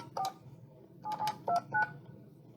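Telephone keypad tones beep in short bursts as a call is dialed, a single tone followed by a quick cluster of three or four more, close and clear over a low background hum.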